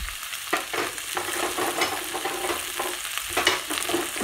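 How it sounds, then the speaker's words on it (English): Broccoli, carrots, zucchini and asparagus frying in oil in a pan as they are stirred, giving a close, busy crackling sizzle broken by spoon scrapes, with no voices. "So give it a stir so the oil coats all the vegetables."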